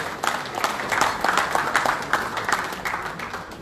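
Brisk, steady applause from guests at the Karachi Ghazis team dinner, a continuous patter of many hands at moderate volume with no speech over it.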